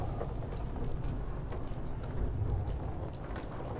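A stormy downpour in the Beyond: Two Souls video game, steady rain noise with a low, muffled thunder rumble beneath.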